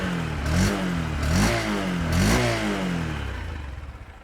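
A Honda SP 125 motorcycle's 125cc engine fires up and gives three quick rising revs before settling into a steady idle, heard close with no talking.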